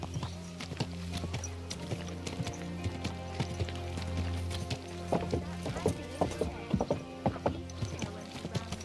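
Horse hooves clip-clop steadily in the video game Kingdom Come: Deliverance 2, the rhythmic hoofbeats growing louder and more distinct over a low ambient hum, with a brief whinny and a voice speaking in the scene.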